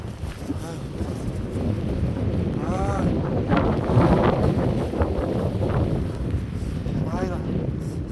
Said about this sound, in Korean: 바람이 너무 많이 너무 많이 불고 대단해요 여기가.